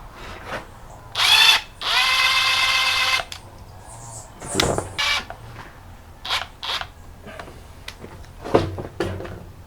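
A power drill drives a screw into a cabinet door in two close, loud bursts, one short and one longer, followed by scattered knocks and handling clatter.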